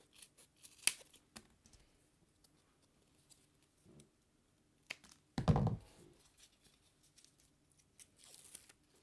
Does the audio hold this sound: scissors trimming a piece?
yes